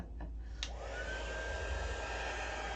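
A heat dryer blowing steadily on paint on a tag, a loud continuous whooshing drone close to the listener for the whole stretch, with a couple of faint brief clicks near the start.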